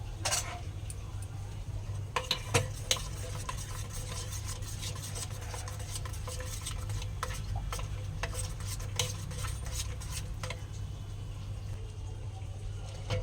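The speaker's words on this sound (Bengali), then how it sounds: "গ্যাস জ্বালিয়ে গ্যাসে বসিয়ে এটাকে খুব করে নাড়বো।" Maize flour being stirred in a pot on a gas stove, a steady scraping and ticking of the spoon against the pot over a low burner hum, with no one talking.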